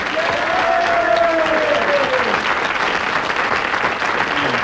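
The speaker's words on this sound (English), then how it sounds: "So, a big round of applause again, please, for Anne-Marie Tasker." Studio audience at a quiz show claps loudly and steadily for a contestant, a dense, close round of applause lasting several seconds with a brief voice lifting above the clapping.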